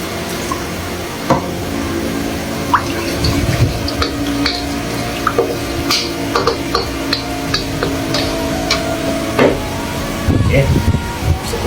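Water splashes into a hot pan of char kuey teow with sauces and soy sauce, giving a steady sizzle with scattered clinks and scrapes of a utensil against the pan.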